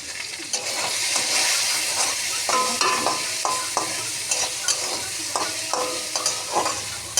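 Tilapia fish frying in hot oil in a wok sizzles steadily under a series of sharp metallic scrapes and clinks from stirring, close and in an uneven rhythm.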